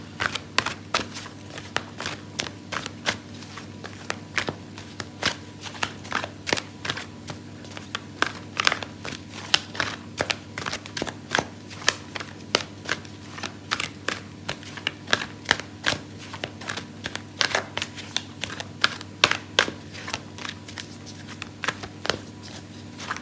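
Tarot cards are shuffled and pulled: a long run of close, crisp card flicks and slaps in an irregular rhythm, quiet and alone, over a faint steady hum.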